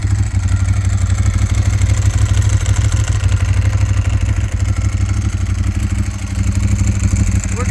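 A 2004 Ducati 998 motorcycle idles up close with a steady low rumble, while its dry clutch spins and rattles in a constant metallic clatter throughout, with no voices over it.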